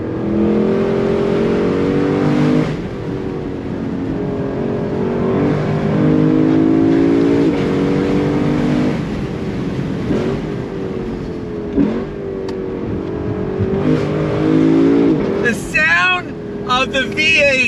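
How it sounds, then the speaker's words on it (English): 2022 Lexus LC 500 convertible V8 revving hard on a twisty road, climbing and dropping through gear changes in loud, close-up waves, with a voice briefly talking near the end. "The V8 is so harmonious, it's freaking ridiculous."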